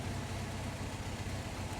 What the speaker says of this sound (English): it's running well, but the idling, I don't like how it idles.